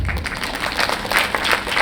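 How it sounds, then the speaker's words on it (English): Audience applause at an elocution event, a steady patter of hands clapping through the whole stretch at moderate loudness with no clear break. "A round of applause."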